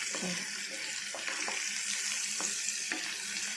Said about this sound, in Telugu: అప్పుడు మామిడికాయ ముక్కలు కూడా వేసుకుని దాంట్లో వేయించుకోవాలి